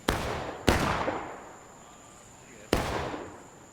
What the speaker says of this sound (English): Union artillery is shooting pretty short